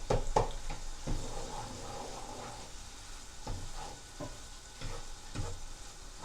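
Meat fries in a pan with a steady, quiet sizzle and hiss, broken by several sharp scraping stir strokes at irregular intervals.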